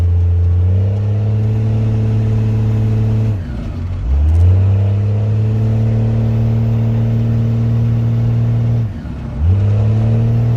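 A Dodge car engine runs steadily, then pitches up as it accelerates, drops back, and climbs again; loud and close, no voices.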